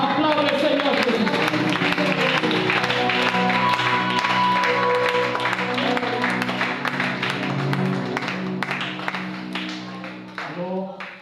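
Applause from a congregation during a French-language church service, a sustained wash of clapping and cheering under a strong tonal backdrop of music or voices, fading out at the end.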